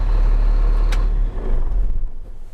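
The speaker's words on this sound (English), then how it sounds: "shut the engine off." A truck engine idles with a heavy low rumble, then cuts out partway through and leaves a quieter fading tail with a short hiss and a few faint knocks.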